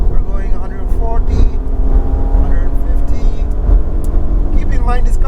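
A 2021 Porsche Panamera V6 accelerates hard on a track, its engine note droning and rising under loud wind and cabin noise, with a person talking over it throughout.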